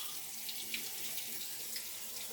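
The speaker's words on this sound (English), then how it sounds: "Just getting some water." Water runs steadily from a tap in a continuous, even hiss, close and fairly quiet, with no voices.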